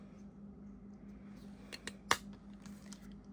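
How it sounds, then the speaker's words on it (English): A 3/8 inch paper punch cuts small black circles, making two or three sharp, close clicks near the end, with the last snap the loudest over a faint steady hum. "Now I do need to make the eyes, and so I have this 3/8 inch punch."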